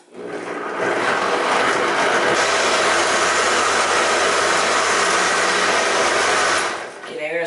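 A countertop blender whirs loud and steady for about six seconds, blending a chocolate milkshake with vanilla extract, then winds down, with a bit of clatter at the end.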